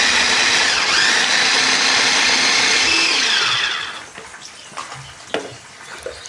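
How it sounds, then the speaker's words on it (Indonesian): An electric blender grinds green and red chilies, shallots and garlic, a loud steady whirring that runs for about four seconds, then cuts off and leaves faint clatter and small knocks. "Misalnya Fluffies mau pakai ulakan boleh, ataupun mau pakai blender juga boleh, tapi nggak usah yang terlalu halus banget deh blender."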